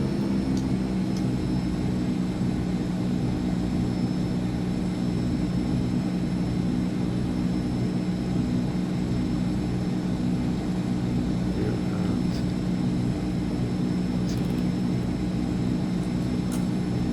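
Aircraft engine spinning up to a steady, continuous drone as the second engine is started in Microsoft Flight Simulator 2024, a constant loud hum holding throughout with no talk.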